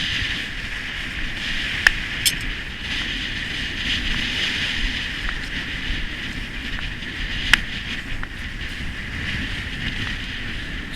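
Strong wind gusts across a campsite while a tent is taken down, a steady roaring rush with occasional sharp knocks and flaps, close to the microphone.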